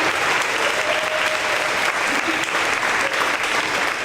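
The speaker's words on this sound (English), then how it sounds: "We want to give Logan a round of applause" Loud, close applause from an audience at a 5th grade promotion ceremony for a student, a thick continuous roar of many hands clapping without a break, with faint voices under it.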